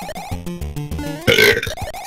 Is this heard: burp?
yes